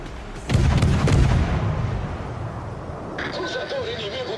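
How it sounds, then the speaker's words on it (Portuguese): A bomb strikes the player's warship in World of Warships: a sudden heavy blast with a rumbling tail that slowly fades, followed by a fainter electronic tone near the end. "Pegou um bomba em mim."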